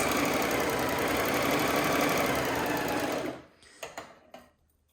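A serger stitching and trimming fabric runs fast and continuous with a rapid mechanical chatter, then stops abruptly, followed by a few small clicks and handling noises.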